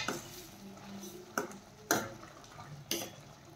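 Cooked chole being stirred with chopped coriander in a pan, quiet wet mixing with a few distinct spoon knocks against the pan, faint and close, no talking.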